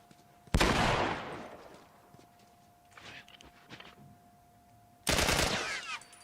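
Assault rifle fire in The Last of Us, heard as two loud, close bursts of rapid automatic shots separated by quieter shuffling and a few faint clicks.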